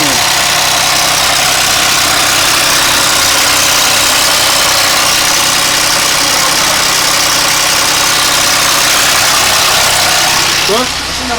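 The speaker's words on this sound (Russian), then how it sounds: "Машина ровно работает сама по себе." An Audi A8 D3 engine idling steadily in a loud, continuous drone with a faint rattling texture, close by, running on its own after a restart.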